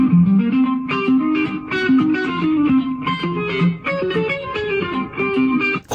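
A guitar part extracted from a full song by audio separation software plays a busy line of notes and chords on its own, slightly distorted, with faint traces of other instruments bleeding through.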